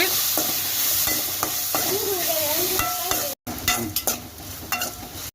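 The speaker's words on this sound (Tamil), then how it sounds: "தக்காளி சேர்த்துக்கலாம் நல்லா மிக்ஸ் பண்ணி விட்டுக்குங்க" Tomatoes fry in a pan while being stirred, a loud continuous sizzle with repeated scraping strokes of a spoon, briefly cut out, then more stirring and sizzling up close.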